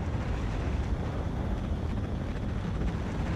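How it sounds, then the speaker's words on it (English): Spaceship engines firing in the video game Star Citizen, heard as a steady, unbroken low roar with a breathy hiss, holding at an even level throughout. "I don't know why our engines were firing."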